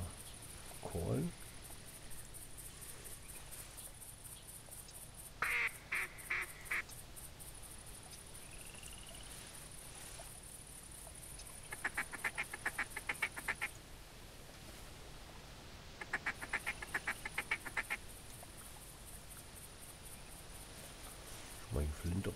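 Duck calls and quacks in The Hunter video game during a duck hunt, heard as bursts of short rhythmic quacking repeated several times over soft insect-like ambient chirping, fairly faint, with some talk in between.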